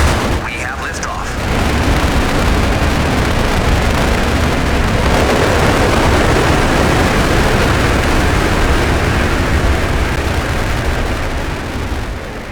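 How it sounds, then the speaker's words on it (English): A Saturn V rocket lifts off in the Mars Horizon video game with a dense, loud, continuous roar that swells quickly after a brief opening and holds steady, with a voice talking over it. "We have liftoff."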